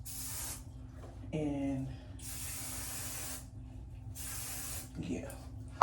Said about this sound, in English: I gotta spray this because my hair looks so dry in between